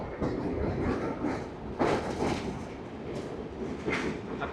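Steady rumble of a moving train crossing the Ajay River, with rhythmic clanks and rattles, heard from inside, no talking.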